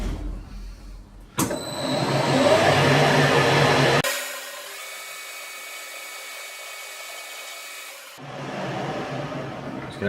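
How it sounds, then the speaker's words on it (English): Drill boring out a metal part for a powered lathe slotter, a loud steady grinding whir that runs for several seconds, shifts to a thinner hum, then returns to the heavier grind. "drill this out."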